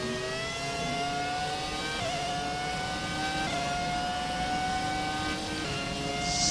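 Ferrari F2004 Formula 1 car in the video game F1 2017, its V10 engine screaming at high revs in seventh gear, a continuous rising howl with brief gear shifts, loud and close with no talk.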